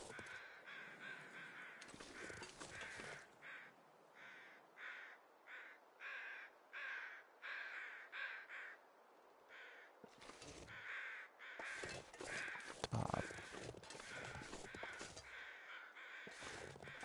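Crows caw repeatedly in the wilderness of The Long Dark survival game, a string of harsh calls spread through the scene over quiet wind, some overlapping, at moderate distance.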